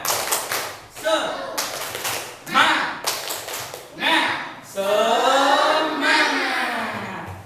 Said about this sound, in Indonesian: Yuk coba tepuk semangat.